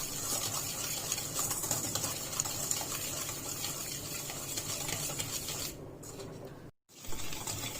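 Eggs and sugar for an orange cake batter are whisked in a bowl, a fast steady clicking and scraping rhythm up close, continuing alone with a brief pause near the end.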